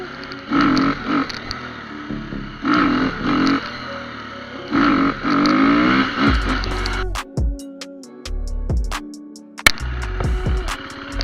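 A KTM 350 SX-F dirt bike engine revs hard in repeated bursts during wheelie attempts, loud and close, then drops to choppy lower throttle blips with mechanical clatter.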